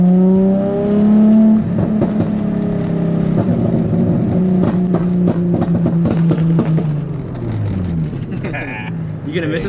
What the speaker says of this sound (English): Sick ass freaking Jetta or whatever that is